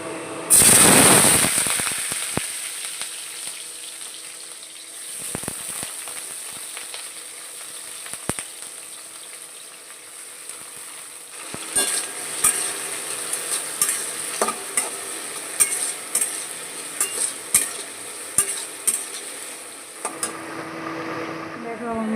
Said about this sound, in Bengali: সবজিগুলো কাঁচা কমপ্লিট আবার ভাজব